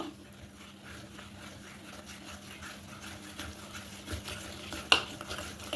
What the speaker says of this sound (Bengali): আমি খুব ভালো করে সব কিছু মিশিয়ে নেব